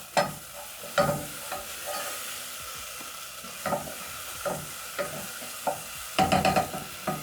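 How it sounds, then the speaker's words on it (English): A spoon stirs spices into a pot of cooking lentils with coconut, turmeric cubes and tomatoes, producing scraping strokes in irregular bursts over a soft sizzle, close and moderately loud with no talking. "Stir in the spices."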